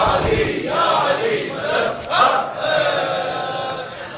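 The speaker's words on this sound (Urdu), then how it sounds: "واقعا مولا علی کے نعرے میں کیا طاقت ہے" A crowd at a Majlis-e-Aza gathering in Manchester, England chants the slogan of Mola Ali, voices rising and falling in several loud collective swells over about four seconds.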